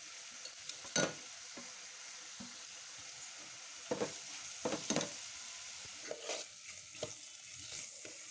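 Grated paneer fries in a pan for a bread sandwich filling, with soft sizzling under intermittent scraping and stirring strokes of a spatula, fairly quiet and close, with no talking.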